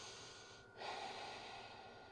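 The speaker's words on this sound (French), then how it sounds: "on prend encore une longue respiration" A long, slow breath drawn during a yoga flow session, a soft airy rush that swells partway through and carries steadily to the end, quiet and close with no talking.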